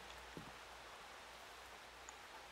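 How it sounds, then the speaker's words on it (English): Rain falls steadily outside in a horror video game, a soft, even hiss of drops with occasional faint patters, quiet and continuous, with no one speaking. "It's raining outside."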